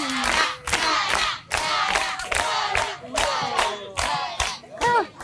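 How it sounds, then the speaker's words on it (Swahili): Students at Mtakuja Beach Secondary School break into loud rounds of clapping and cheering, several bursts in quick succession with shouts mixed in, close and lively. "Hatumpigie tena makofi"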